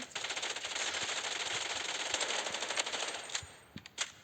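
Video game gunfire rattles in rapid, continuous bursts, a sharp mechanical chatter that thins out near the end into a few separate louder shots.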